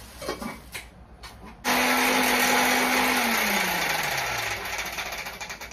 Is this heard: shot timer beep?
no